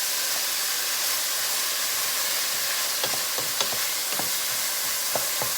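Chopped onion sautéing in a pan for homemade spaghetti sauce, giving a steady bright sizzle and hiss, with a few soft stirring clicks and scrapes in the second half and no talking.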